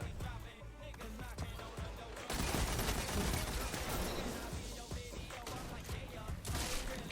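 Rapid automatic gunfire with crashing impacts from the video game Destiny, a dense continuous volley that grows louder partway through, with faint voice chat beneath.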